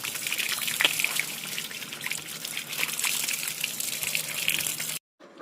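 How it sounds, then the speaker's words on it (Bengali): Water splashing and trickling steadily over bare feet as they are washed after coming in from outside, close and continuous, then cutting off abruptly near the end. "তারপরে এই যে পা ধুয়ে নিলাম"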